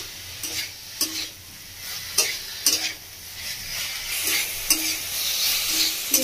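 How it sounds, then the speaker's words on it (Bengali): Chicken cooks with spices in a pan under a steady sizzle, with a utensil stirring and scraping against the pan at a rough rhythm of about one stroke per second. "মশলার সাথে ভালো করে চিকেনটা খুব সুন্দরভাবে হবে।"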